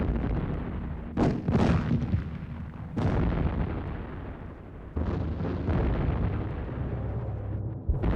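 Artillery shells exploding in a First World War battle at Verdun, several loud booms near 1.2, 1.6, 3 and 5 seconds each followed by sustained rumbling barrage, with no voices.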